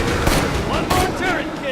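Sentry turret gunfire in Borderlands 2: dense, rapid bursts of shots with booming impacts, partly under a voice.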